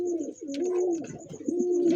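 Pigeon cooing up close, a Bombay or racer type dove with a rolling, repeated coo that keeps going steadily, with brief shuffling noises between calls and no one speaking.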